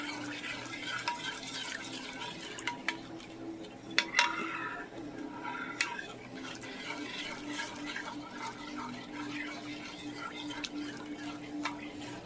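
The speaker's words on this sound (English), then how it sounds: "Get my trusty spoon. Just going to get all those juices together." A spoon stirs and scrapes through oven-barbecued pork chop juices in a dish, making scattered clinks and wet scrapes over a steady low kitchen hum.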